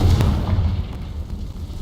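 A Confringo blasting spell detonates in Hogwarts Legacy, a single loud, close, low boom that rumbles briefly and fades.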